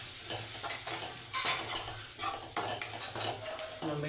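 Food frying in a pan with salt just added is stirred with a utensil, scraping and clinking rhythmically over a constant loud sizzle, with no talking.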